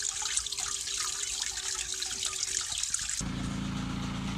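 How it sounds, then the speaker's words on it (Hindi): Water running steadily into livestock drinking troughs on a farm, a continuous broadband rush and trickle that shifts abruptly to a heavier, lower gush partway through, with no talk. "ये सारा पानी अब आगे जा रहा है, आहिस्ता आहिस्ता आहिस्ता आहिस्ता जा रहा है"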